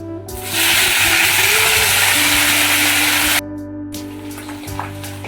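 Drumstick greens hit hot oil in a wok with a loud, dense sizzle lasting a few seconds, then cutting to a quieter fry with a low steady hum underneath.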